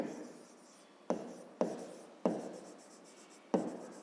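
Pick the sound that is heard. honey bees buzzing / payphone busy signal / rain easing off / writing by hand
writing by hand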